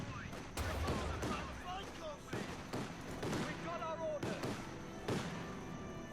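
Gunfire in the WWII strategy game Company of Heroes 2 sounds as repeated sharp shots and bursts spaced through the clip, under someone commentator's voice.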